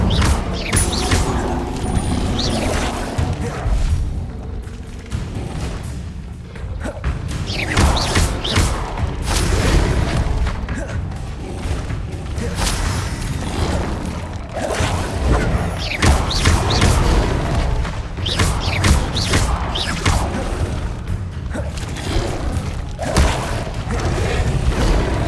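Incendio fire spells and combat blasts in Hogwarts Legacy, heard as a steady stream of heavy thumps, booms and whooshing crashes that stays loud and busy throughout.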